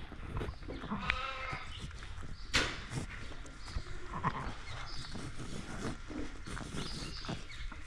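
Newborn lambs and a ewe bleat at lambing time, giving a few short wavering calls amid soft shuffling and movement, fairly faint and close, with a little quiet talk.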